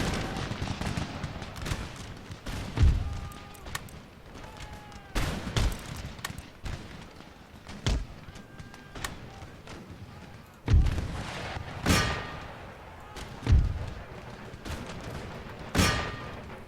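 Musket volleys in Empire Total War crack out in repeated loud bursts, each ragged fusillade booming and rolling off before the next, spaced a few seconds apart over a steady battlefield din.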